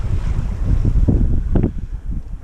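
Wind gusts roar steadily into the microphone on a sailboat, a broad rushing noise with a few louder surges partway through.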